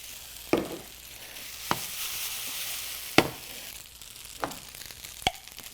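Fettuccine alfredo ingredients get mixed in a pan with a soft background hiss and a handful of sharp, separate clanks and scrapes from a utensil.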